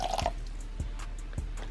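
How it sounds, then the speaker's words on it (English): Water trickles from a beaker into a scorpion's water bowl, a short run of light splashing followed by a few sparse, quiet drips. "So I'm just gonna go ahead and fill up each of their water bowls with my beaker."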